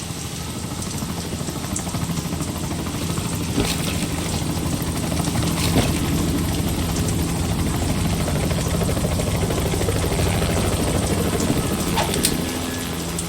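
A loud, continuous helicopter engine with rotor thrum in Metal Gear Solid 2, steady and close throughout, with no talking.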